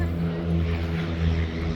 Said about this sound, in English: Oh, another airplane landing.